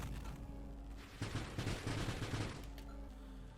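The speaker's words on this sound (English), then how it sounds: "Well, there's the charge shot." Charge shot firing in the space shooter game Nova Drift, a dense burst of rapid blasts and booms that swells mid-clip over constant game music and effects.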